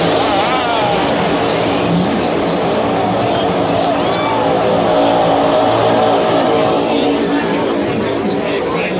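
Race cars roar in a steady, dense engine drone on a high-speed pace lap at Daytona, loud throughout, with crowd chatter and a voice talking underneath.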